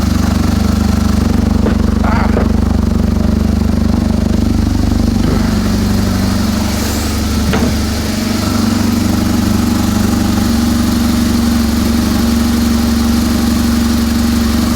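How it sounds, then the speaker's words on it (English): A BMW R1200GS motorcycle engine idles steadily and loud up close, its low boxer thrum unbroken for the whole stretch with a few faint knocks and rattles in the background. "the engine's sounding about right for what these sound like, nice and quiet."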